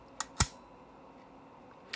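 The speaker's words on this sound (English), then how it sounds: "And we fire the shutter" A Mamiya TLR camera shutter fires with a couple of sharp, faint mechanical clicks close up in a quiet room, followed by another small click.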